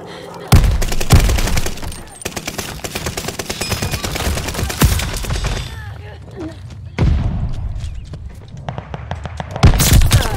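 Rapid gunfire bursts and heavy booms from Call of Duty: Vanguard gameplay, with dense volleys of shots running throughout and a few louder blasts near the start and end, under occasional Russian speech.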